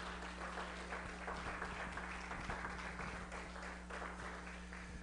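A church congregation claps together in sustained applause during a worship service, many hands blending into a steady patter over a low electrical hum.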